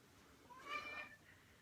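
A pet cat gives one soft, drawn-out meow, fairly faint against a quiet indoor background.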